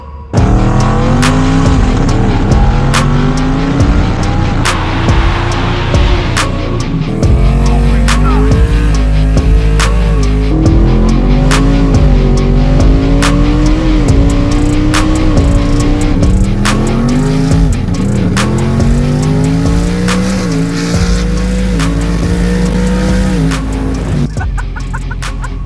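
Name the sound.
twin turbo Ford F150 truck accelerating with tire squeal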